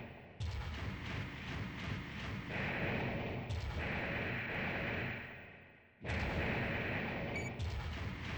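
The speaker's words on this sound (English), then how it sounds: "All those machine gun bullets." Sustained machine gun fire from a mech in the Armored Core video game, a dense continuous roar of rapid shots in long bursts with one brief break, loud and steady with no talking.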